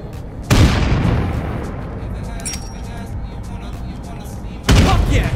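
Two heavy grenade blasts in State of Decay 2 combat, a sudden loud boom with a long rumbling decay and a second boom about four seconds later.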